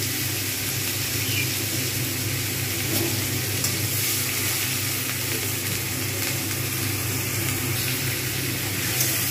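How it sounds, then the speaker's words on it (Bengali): Onion paste fries loudly in a pan for a fish curry, giving a dense, continuous sizzle and crackle that stays even throughout with no talking. "ভালো করে নেড়ে নেব, তাহলে এটা কিন্তু ভাজার কাজ হয়ে যাবে।"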